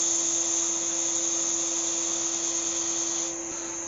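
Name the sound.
sanding a turned wooden ornament on a lathe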